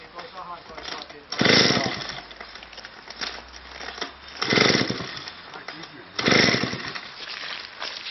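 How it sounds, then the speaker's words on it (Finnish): Gasoline chainsaw revving in three loud bursts around 1.5, 4.5 and 6.5 seconds, idling more quietly between them, with background talk. "Moottorisaha."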